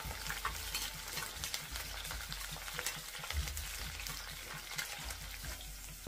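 Onion fries lightly in hot oil in a kadai with a dense, continuous sizzle and a quick crackle, close and steady throughout.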